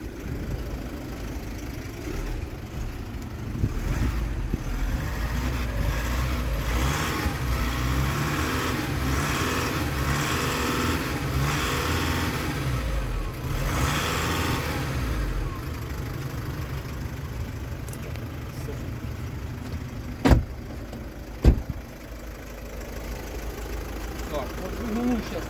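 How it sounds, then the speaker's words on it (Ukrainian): A warmed-up used diesel car engine idles with a steady low rumble, then revs briefly, while someone talks over it near the car. "я буду газувати"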